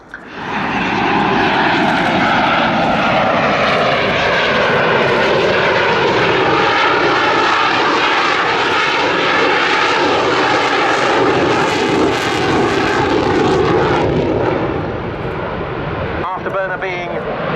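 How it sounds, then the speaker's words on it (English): Military jet aircraft making a slow speed pass at an airshow, a loud continuous engine roar sustained overhead with shifting tone, easing slightly near the end, with talk underneath. "the pace slowing as the aircraft is set up for the slow speed pass"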